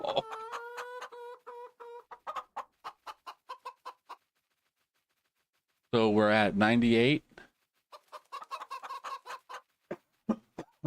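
Chickens clucking in the Farming Simulator 25 video game, a rapid run of short, repeated clucks from a flock, broken by a brief loud burst, with a voice speaking in between.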